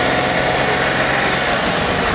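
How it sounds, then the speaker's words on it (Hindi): A 2014 Maruti Wagon R VXI with its 1.0 litre petrol engine is revved, giving a loud, steady, close-up buzzing drone with no talk over it. "एक बार आपको इंजन का साउंड भी मैं सुनाना चाहूँगा"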